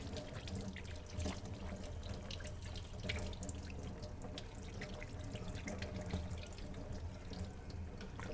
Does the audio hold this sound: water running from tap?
yes